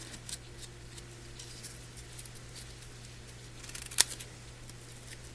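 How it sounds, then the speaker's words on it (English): Scissors trim off a piece of ribbon during a paper-folding craft, giving a quiet soft rustle and then a single crisp snip near the end, faint and close. "Take my scissors and trim that off."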